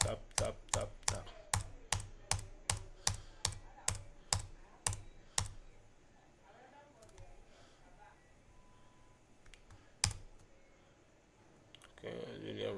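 About a dozen evenly spaced, sharp clicks on a computer keyboard, rerunning code in a steady rhythm. They are followed by a quieter stretch with one more loud click and some faint sounds.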